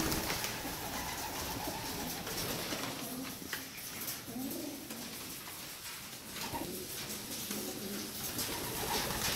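Racing pigeons coo softly and repeatedly at a derby loft in Shanovo, their low calls rising over a constant, noisy outdoor background.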